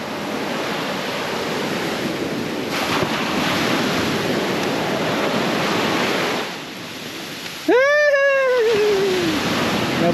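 Ocean surf rolls steadily onto a sandy summer beach at Baler, a loud continuous wash mixed with wind buffeting the microphone, then a sharp rising-and-falling whistle or cry cuts briefly across the roar near the end.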